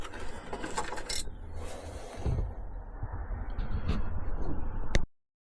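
Hand file working a hacksaw cut in Range Rover Evoque roof rails, uneven rasping and scraping strokes up close with a few sharp metallic clinks, ending abruptly.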